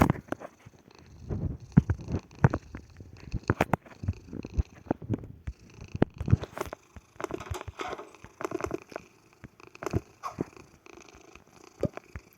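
A cat purrs steadily while being petted in the video game Dark Riddle, a close, continuous rumbling purr with soft patting sounds and no speech.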